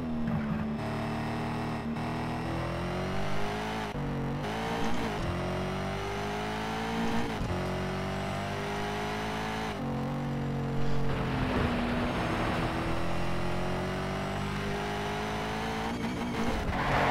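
A race car's engine revs steadily under load in the Need for Speed Shift 2 Unleashed racing game, droning loud and close with pitch rising and falling through gear changes and occasional tire squeal, with no talking.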